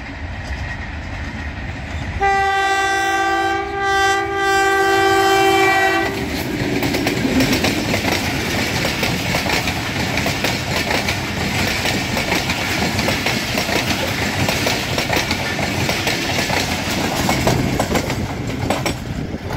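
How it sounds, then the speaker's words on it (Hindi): The 12 Down Hazara Express, hauled by locomotive 8308, arrives at Rawalpindi station. A loud, sustained horn blast gives way to a steady, close rumble and clatter of rolling wagons, with no talk. "ये आ गई है 12 डाउन हज़ारा एक्सप्रेस PH820 के साथ, 8308 लोकोमोटिव का नंबर है।"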